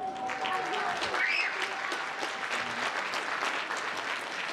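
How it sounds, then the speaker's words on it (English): A school band concert audience claps steadily in a hall, a fairly soft, continuous patter of many hands with faint voices and a few whoops mixed in. "You don't even know why you're clapping for her yet."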